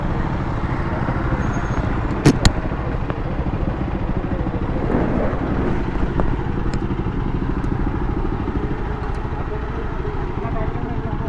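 A motorcycle is ridden with a steady, loud engine drone and wind rumble throughout, a couple of sharp clicks early on, and voices partly under the noise.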